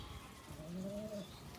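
A racer pigeon in a home collection gives one low, drawn-out coo midway through, faint against a quiet background.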